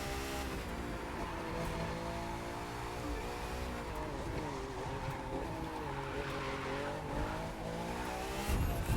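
Drift car tires squeal continuously over a revving engine in The Crew 2 racing game, with wavering pitch through long slides and throttle bursts that hold loud the whole way.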